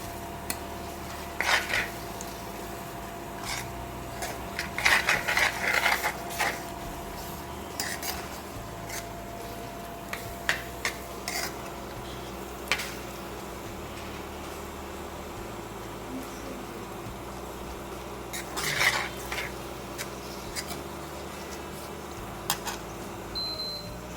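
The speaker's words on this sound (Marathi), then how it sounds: "त्यालाही तेल सुटेपर्यंत छान असं परतून घ्यायचं" Masala stirred and sautéed in a pan for hotel-style Puneri misal, with intermittent metallic scrapes and clinks of a spoon against the pan over a low steady background, no voices.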